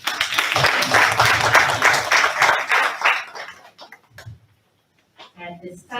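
An audience at a Board of Education meeting applauds, a dense round of clapping for about three seconds that thins into a few scattered claps and fades into quiet before a voice resumes.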